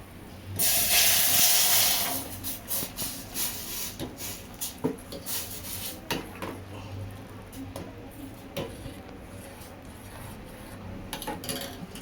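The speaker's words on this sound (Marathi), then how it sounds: "त्यानंतर आपल्याला दूध टाकायचं आहे." Milk hits a hot pan with cardamom, bursting into a loud sizzling hiss that fades into bubbling and scattered clinks, with someone speaking over the cooking.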